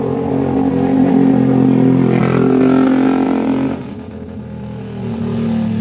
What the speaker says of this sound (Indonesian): Coba dulu kok suara motor ya, padahal lo nggak kenceng motornya